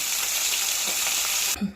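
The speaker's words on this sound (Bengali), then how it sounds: "মাছটাকে আমি লাল লাল করে ভেজে তুলে নেব" Bhangor fish fries in a wok for a Bengali fish curry, a loud, close sizzle that runs steadily and then cuts off abruptly near the end.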